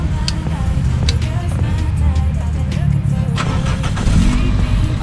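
A Toyota Etios starts up and settles into a running idle, a close engine hum with small surges and someone talking over it.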